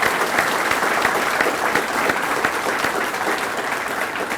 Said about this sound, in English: If we can give them a round of applause, please.